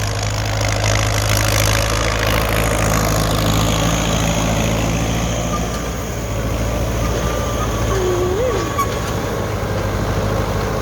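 A Ford tractor's diesel engine idles loudly and steadily at close range in a rice field, a constant low rumble that dips briefly before resuming.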